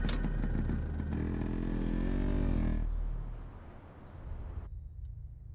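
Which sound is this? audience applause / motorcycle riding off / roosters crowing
motorcycle riding off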